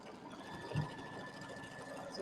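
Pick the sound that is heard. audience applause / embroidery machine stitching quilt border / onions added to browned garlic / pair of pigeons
embroidery machine stitching quilt border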